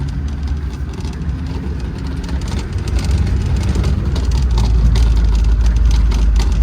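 A vehicle engine revs hard as the wheels spin on steep wet ground in rural Scotland, a loud, rough, continuous roar that builds steadily in strength.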